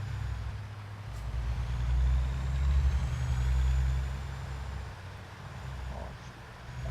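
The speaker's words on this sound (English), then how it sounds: "This truck is taking some getting used to." A truck's engine rumbles low and steady while driving, swelling louder around the middle and then easing back, with no one talking.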